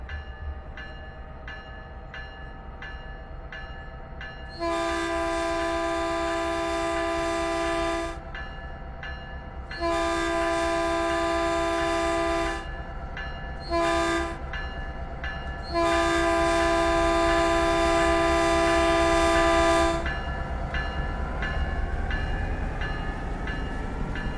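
Horn of an approaching train on the Arosa line in Train Sim World 3, four loud sustained blasts over a steady rumbling engine and rail noise, with no talk.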